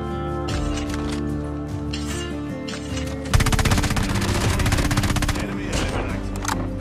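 Rapid automatic fire from a BP50 rifle in a shooter game, a dense burst of fast, loud rattling shots starting abruptly midway over a steady game music bed.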